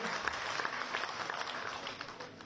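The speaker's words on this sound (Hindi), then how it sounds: "एक बार जोरदार तालियां बजाकर स्वागत करें, वंदन करें, अभिनंदन करें।" Loud, sustained applause from a crowd at a political gathering in Madhya Pradesh welcoming a guest, with a few sharper individual claps standing out over the continuous clapping.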